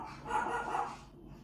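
A single dog gives a short, somewhat muffled bark or yelp, heard alone at moderate distance.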